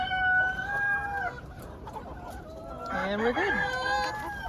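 Hens cluck and squawk in a close, busy chorus inside a coop, with a rooster-like call rising near the end and a brief spoken remark partway through.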